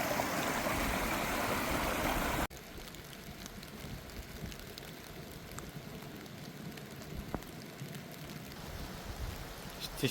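Rain falling outdoors during a crystal-hunting outing, a steady broadband hiss that is loud for the first couple of seconds, then drops to a softer, even patter with occasional drips.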